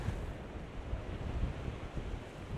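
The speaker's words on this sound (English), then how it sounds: "I can't let go of the tripod, it's just so windy here" Strong wind buffets the microphone in a steady, low roaring rush, with no voices.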